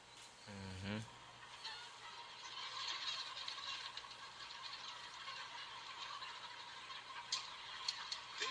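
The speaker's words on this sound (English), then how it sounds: "These chickens never see sunlight." Dense crowd of broiler chickens in a dark, windowless Tyson poultry house, a steady loud flock murmur of clucks and chirps throughout, with a brief low gobbling call near the start and sharper calls toward the end.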